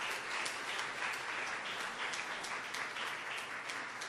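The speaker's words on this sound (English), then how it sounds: "Hold your applause." Steady applause from a crowd at an awards ceremony, a continuous wash of clapping that holds at an even level throughout.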